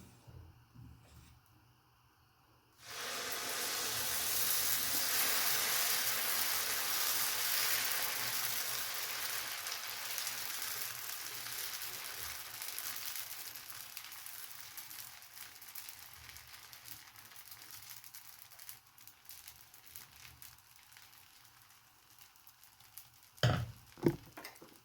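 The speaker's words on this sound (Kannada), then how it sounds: "ಸಾರ್ಕೊಂಡು ಈಗ ದೋಸೆ ಹುಯ್ಯೋಣ." Dosa batter poured onto a hot oiled griddle scattered with cut onion, starting after a short quiet lead-in with a sudden broad sizzle that holds steady and close, slowly easing, with a few small clatters near the end.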